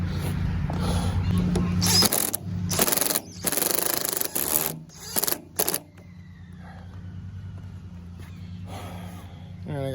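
Screws are driven into an RV awning arm on an MCI bus conversion, in a few loud, short bursts up close followed by a low hum. A person talks briefly.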